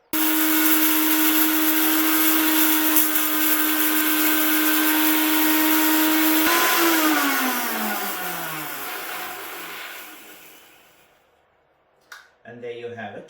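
An electric grinder whirs loudly and steadily as it grinds roasted spices for fish biryani, then winds down with a falling pitch once switched off, followed by a short rattle and a voice speaking near the end.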